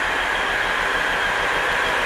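A train rolling slowly around the yard of a locomotive workshop in Yogyakarta, giving a steady, even rumble and hiss from close by, with no talking.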